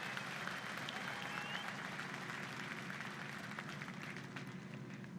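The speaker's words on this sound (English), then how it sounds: "give them a big round of applause" A crowd at a drift competition applauds the finalists, steady clapping and cheering heard from a distance at low level throughout.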